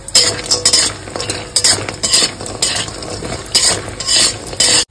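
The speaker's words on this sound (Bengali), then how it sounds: "ওই তেলেই এবার আমি বড়িগুলো দিয়ে বড়িগুলোকে লাল লাল করে ভেজে তুলে নেব" Bori lentil dumplings fry in hot oil in a pan, a steady loud crackling sizzle broken by repeated scraping and stirring clinks of a utensil against the metal.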